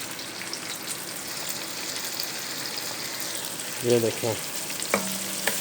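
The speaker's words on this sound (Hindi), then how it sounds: "थोड़ा सा फ्राई हो चुका, थोड़ा सा और फ्राई करेंगे, थोड़ा सा और गुलाबी रंग आ जाए" Chopped ingredients frying in oil toward a light pink colour for a ridge gourd dish, giving a constant dense sizzle with a few stirring clinks near the end and a short spoken phrase.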